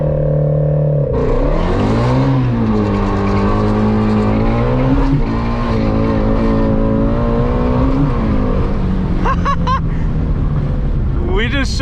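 A Ford Mustang GT350 makes a launch-control run in sport mode with traction control off: the engine roars loud and close, its pitch climbing through the pull, while tires squeal near the end.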